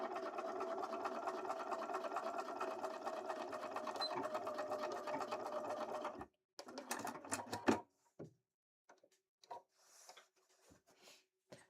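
A sewing machine stitching fabric for a Link cosplay hat, a continuous close whirring run of about six seconds, then a few short bursts and clicks before falling quiet.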